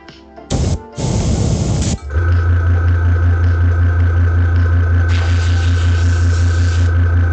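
Steady mechanical hum of an airbrush compressor running while miniatures are painted, loud and continuous for several seconds after a few short bursts of hiss and noise at the start.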